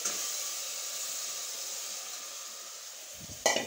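Goat head meat hisses and sizzles steadily in a pan of fried ginger-garlic paste and tomato, a loud, even hiss with no talk, ending in a brief clatter.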